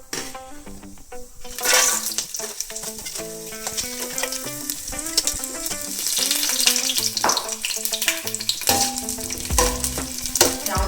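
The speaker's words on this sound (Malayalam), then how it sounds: "കടുക് പൊട്ടി നമുക്ക് തേങ്ങ ഇടാം" Mustard seeds and grated coconut fry in sunflower oil with a busy crackling sizzle that builds and stays close, set under prominent background music.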